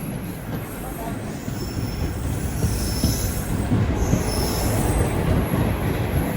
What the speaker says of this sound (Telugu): ఏంటి స్టేషన్లో స్లో అవుతుంది ట్రైన్?